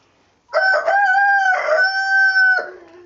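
A rooster in a chicken coop crows once, loud and close: a long, strained cock-a-doodle-doo lasting about two seconds, with no other sounds around it.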